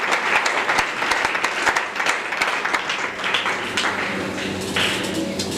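A church congregation breaks into steady, dense applause that carries evenly through the whole stretch, with scattered cheering mixed in at a close, full level.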